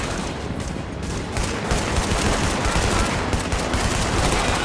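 Dense, sustained video game shooter gunfire, with overlapping rapid bursts and automatic fire running loud and continuous throughout.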